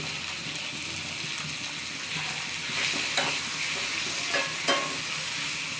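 Dried fish sizzles in hot oil with onion and garlic, a steady frying hiss punctuated by a few scraping stirs of a spatula in the pan.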